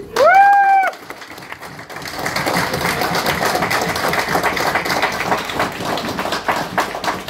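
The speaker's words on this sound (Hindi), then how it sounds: "एक बार जोरदार ताली सर के लिए।" After a brief tonal chime, a seminar audience claps for the presenter, a dense, steady patter of many hands that starts about two seconds in and continues evenly to the end.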